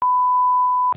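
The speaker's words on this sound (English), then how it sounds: "That was the phone." A phone in an audio drama gives a single steady electronic beep, one clean tone lasting just under a second, loud and close, with nothing else around it.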